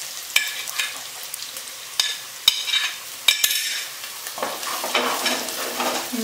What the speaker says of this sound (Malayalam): നല്ലോണം വഴച്ച് ഇഞ്ചി ഇഞ്ചിപ്പൂണ്ടിൻ്റെ സ്മെല്ലൊക്കെ ഒന്ന് പോകണം.